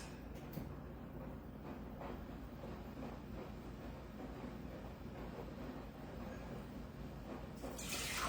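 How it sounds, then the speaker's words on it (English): Tap water runs steadily from a kitchen prep sink faucet into a pot for crawfish bisque, a continuous close splashing flow that lasts throughout and brightens at the end as the pot fills. "I'm gonna put 4 cups of water in the pot."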